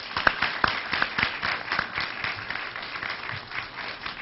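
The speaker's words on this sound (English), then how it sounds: "Let's give him another round of applause." A college event audience applauds at moderate volume, a dense patter of clapping with a few sharper individual claps early on, fading slightly toward the end.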